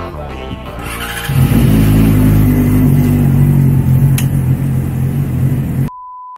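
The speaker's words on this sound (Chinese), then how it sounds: "你们刚刚知道他们排气管的威力，真是有够吵啊！" Loud motorcycle exhaust revving up close, a deep sustained roar with a rasping edge that holds for several seconds before cutting off abruptly.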